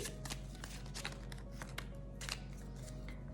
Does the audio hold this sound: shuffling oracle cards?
yes